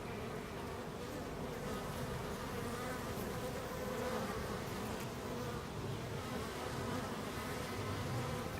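Honeybees swarm a syrup feeder near their hive, giving off a dense, steady buzz that holds without break throughout, close and even, with no voices.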